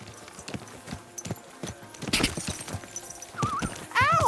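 A horse's hooves clip-clop rapidly and closely in the video game Kingdom Come: Deliverance II, a quick uneven trot that grows louder, ending with a brief whinny-like squeal.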